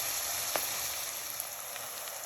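Onions sizzle and fry in a pan for prawn biryani, a soft, steady crackling hiss with a few faint stirring clicks, heard alone at low volume.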